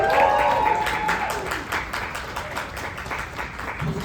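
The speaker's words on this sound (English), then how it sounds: "you give a big round of applause for them" An audience at an F1 film press conference applauds producer Jeremy Kleiner, a moderately loud wash of clapping that swells at the start and thins slightly over a few seconds.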